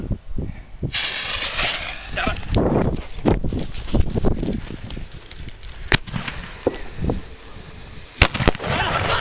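New Year's fireworks burst and crackle in repeated loud bangs at irregular intervals, some close and sharp, some more distant, with people reacting in the background.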